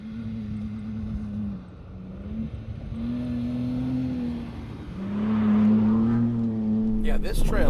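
A Ford Bronco Raptor on a dirt trail, its engine droning steadily inside the cabin and swelling with revs, with tire and gravel noise around it and a burst of clatter at the end; people talk over it now and then.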